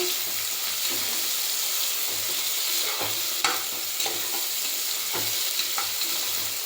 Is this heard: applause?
no